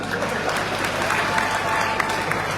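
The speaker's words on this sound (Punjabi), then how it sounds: "ਅਸਲੋ ਅਸਲੋ ਪਟਕਾ ਕੇ ਤਾੜੀ ਮਾਰੋ" A large crowd at a political rally breaks into sustained applause, dense even clapping filling the whole stretch with a faint murmur of voices underneath.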